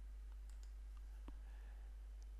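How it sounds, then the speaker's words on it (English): A single faint computer mouse click on a software Select button, one brief tick amid a quiet, steady background hum with a few tiny clicks around it. "click the Select button"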